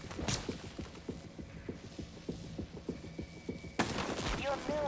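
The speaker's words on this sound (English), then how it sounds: "It's getting plenty of use out of the glue pistol today." Repeated firing of the GLOO cannon glue pistol in the video game Prey, a rapid series of sharp, regular pulses lasting several seconds, followed by a burst of brighter, messier game sounds.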